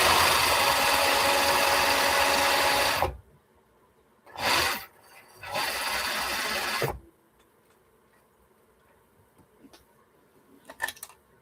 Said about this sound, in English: I guess it helps to turn your sewing machine on